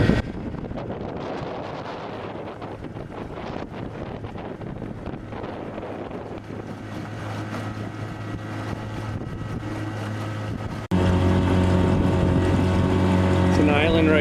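A 1971 Johnson 4 hp outboard motor pushes a small boat across open water, its steady engine drone running continuously with wind buffeting the microphone and a louder, brighter motor tone after a shift near the end.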